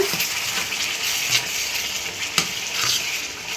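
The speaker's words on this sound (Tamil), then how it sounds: "அரைச்சி வச்ச சட்னியை ஊற்றிடலாம் இப்போ இது நல்லா மிக்ஸ் பண்ணி விட்டுக்கோங்க" Ground chutney stirred into a hot pan of tempering: a continuous hissing sizzle with soft scraping and an occasional sharper clack of the spoon, heard close with no speech.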